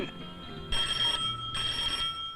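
An old-style telephone bell rings in two loud, close bursts separated by a short pause, with no voices over it.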